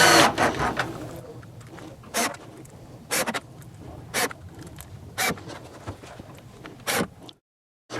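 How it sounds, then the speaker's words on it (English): A power driver runs screws into a headboard, producing short, sharp whirring bursts repeated roughly once a second at close range, separated by quieter handling noise and ending in silence. "Just going to get all these screws in all the way across this headboard."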